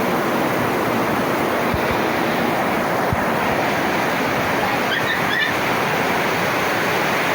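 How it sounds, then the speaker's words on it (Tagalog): A steady, dense roar of heavy rain pours continuously, loud and unbroken, with no voices. "Malakas ang ulan."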